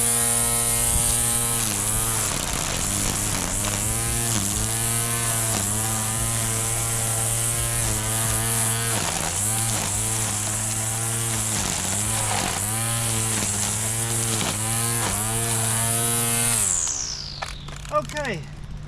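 Seyvum 2-in-1 battery string trimmer and edger running steadily at close range, a loud continuous motor whine with repeated dips as it cuts, then winding down near the end.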